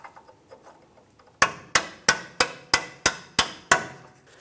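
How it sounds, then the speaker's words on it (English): A hammer drives a lower control arm bolt out of a 2002-2005 Ford Explorer, eight sharp metallic blows at a steady rhythm, loud and close after quieter light taps. "as you're driving this bolt out, the control arm could potentially move"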